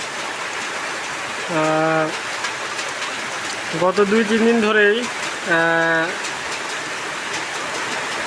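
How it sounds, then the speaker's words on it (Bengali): Heavy monsoon rain pours on a village home as a dense, steady hiss that runs the whole time, while someone speaks in short bursts over it. "মুসলধারে বৃষ্টি হচ্ছে"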